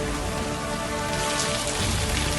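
Heavy rain pours down in Jaisalmer, Rajasthan, a dense, steady hiss of drops drumming on surfaces, loud and unbroken throughout with no voices.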